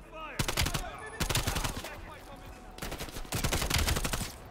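Rapid automatic gunfire bursts and pistol shots in the Call of Duty Cold War campaign, loud dense volleys in several bursts with short gaps, a voice talking underneath.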